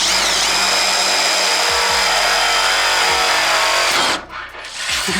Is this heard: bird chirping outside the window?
no